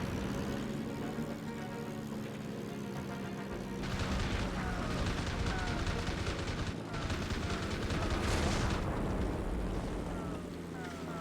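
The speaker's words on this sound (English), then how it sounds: "our cannons make short work of these zeros" Aircraft cannons firing in the Heroes of the Pacific game during the Battle of Midway, dense rapid bursts of gunfire over a steady engine drone, with a couple of louder sustained volleys.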